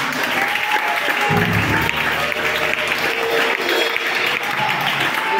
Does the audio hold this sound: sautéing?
no